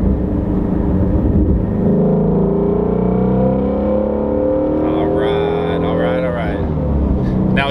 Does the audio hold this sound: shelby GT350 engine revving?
yes